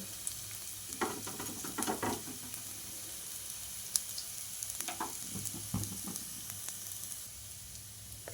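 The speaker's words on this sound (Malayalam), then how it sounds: "എണ്ണ ചൂടായി വന്ന ശേഷം നമുക്ക് തേങ്ങ ഇട്ട് കൊടുക്കാം" Grated coconut drops into hot oil in a pan and fries with a steady sizzle and hiss, broken by bursts of stirring and scraping that come close and fairly loud.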